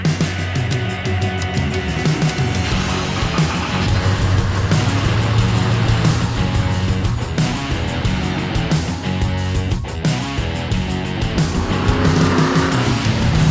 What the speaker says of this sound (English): we got our Mustang up and running